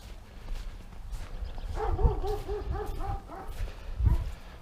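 A dog off in the Ontario bush gives a few muffled barks and yips at moderate distance, with short harmonic calls bunched together and one more bark after a gap, set against outdoor rustling.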